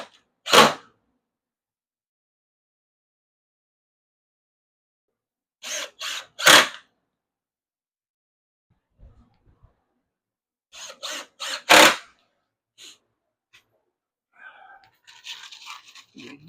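Power drill driving 1-inch coated screws into cedar boards for a raised sandbox, a few short separate whirring bursts with quiet gaps between them.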